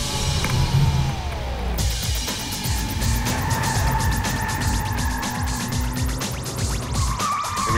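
Race cars charging into the final turn toward the finish line, engines roaring and revving with rapid gear changes and tire squeal, loud and close throughout.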